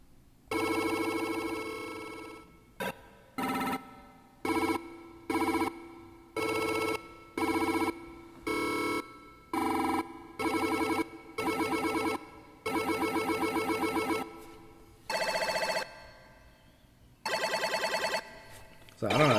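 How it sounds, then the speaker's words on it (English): A synthesized phone ring from an AudioKit Digital D1 synth plays as a series of bright, buzzy warbling bursts in an uneven stuttering rhythm, clear and close, with no talk. "Or if you needed a phone ring."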